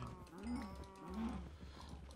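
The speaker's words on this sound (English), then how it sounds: "My god, there's so many cows in here." Cows in the video game Minecraft let out two low, drawn-out moos in quick succession over a soft background, moderately close and not masked by talk.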